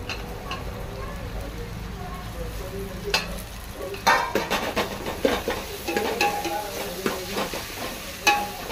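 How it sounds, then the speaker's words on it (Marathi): Tomatoes and onions frying in a pan for mutton curry, a close crackling sizzle with repeated spoon scrapes and clatter from stirring, louder in the second half, with speech faintly underneath. "सो फ्रेंड्स हे टोमॅटो आणि कांदे बरो फ्राय जाला."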